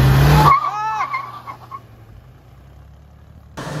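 A Mahindra Thar 2022 and a Toyota Fortuner launch together in a drag race. A loud burst of engine roar and tire squeal fades quickly as the vehicles pull away, leaving a faint, distant engine hum.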